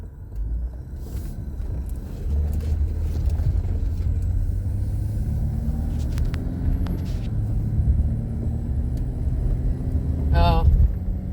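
A 2012 Chevrolet Traverse, freshly fitted with new coils and spark plugs, driving with a steady low engine and road rumble, rising gear-change tones and a brief squeal near the end.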